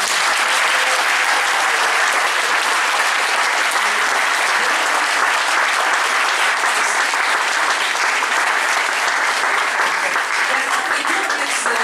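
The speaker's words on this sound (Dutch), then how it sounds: "Dit applaus is helemaal voor jou." Loud, sustained applause fills the hall at the Special Media Awards evening, an unbroken wash of many hands clapping for about twelve seconds, with crowd noise mixed in.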